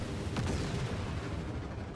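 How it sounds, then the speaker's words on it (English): Explosions in the Cardano Clash racing video game form a dense, loud, continuous rumble of blasts and crackling bursts close up, with no voices. "Through the first corner, we've got some explosions."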